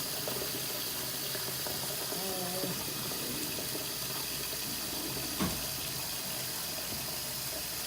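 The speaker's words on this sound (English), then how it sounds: "you want to run cool water over these because you want to be able to work with them" Cool tap water runs steadily from a kitchen faucet over drained lasagna noodles in a sink, a continuous even splashing rush with a faint voice and a brief clunk partway through.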